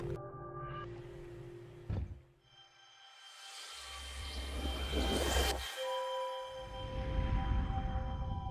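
A bell rings in a time-control video game, a sequence of resonant metallic clangs and dings with long ringing tails, a low rumbling swell and sustained tones among other game sounds.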